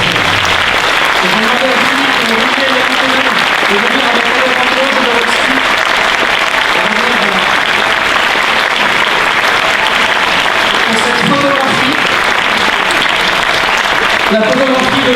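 Festival audience applauding steadily at a tribute event at the Gérardmer film festival, a dense sustained wash of clapping with a voice talking over it throughout.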